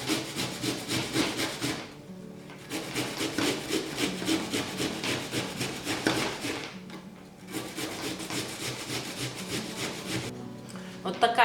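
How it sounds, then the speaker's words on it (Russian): An onion is grated by hand on a kitchen grater while making meatballs, giving steady rhythmic rasping strokes, close and continuous, with two short pauses. "Теперь трем лук."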